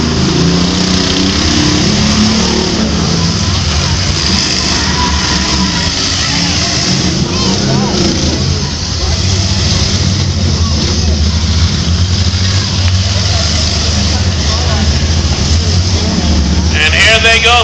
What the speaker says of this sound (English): These cars don't have very much power left in them. They're just limping on by.